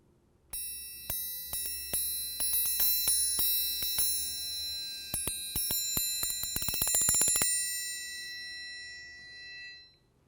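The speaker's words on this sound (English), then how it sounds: "a triangle is made of metal, and it's a bright sound, and it's usually played with a metal beater" A metal triangle struck with a metal beater rings bright and shimmering, with a run of quick strikes building into a rapid roll before the long sustain fades away, close and alone.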